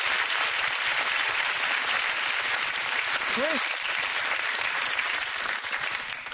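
Evening audience applauding guests, a steady wash of clapping that stays loud throughout, while a voice speaks briefly over it and a short tonal sound rises midway.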